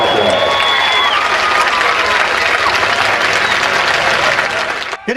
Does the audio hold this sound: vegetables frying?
no